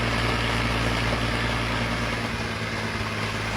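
A Massey 240 tractor's engine drones loud and steady as it pulls a loaded trolley, a continuous low throbbing rumble with no talking.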